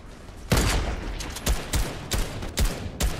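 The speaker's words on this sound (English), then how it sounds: "I don't know where I just got shot from." Gunshots in the battle royale video game Fortnite Reload ring out as about six sharp, loud single shots at an irregular pace, with no talk over them.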